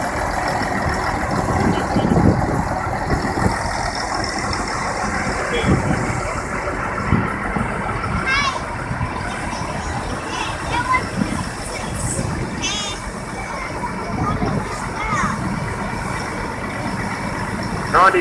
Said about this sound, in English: that's the way the tractor comes on the road.